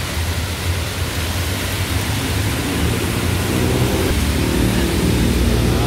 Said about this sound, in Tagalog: Lakas ng ulan, palakas ng ulan eh.